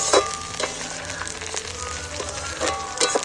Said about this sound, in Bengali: দেখো পেঁয়াজটা নাড়াচাড়া করতে করতে কিন্তু লাল হয়ে পুরো ভাজা হয়ে গেছে।